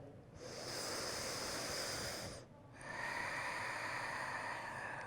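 Slow, deep breathing during a Pilates back-strength exercise: a long, airy inhale, a short pause, then a long exhale, heard close and soft, with no talking.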